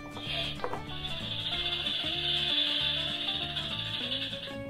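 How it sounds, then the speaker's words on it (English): A toy wooden animal sound puzzle plays a rattlesnake rattle as a sustained buzzy hiss lasting several seconds, with a faint electronic melody under it and no speech. "that was a rattle from a rattlesnake"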